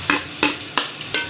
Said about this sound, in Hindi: घी गर्म होता है तो साथ ही इसको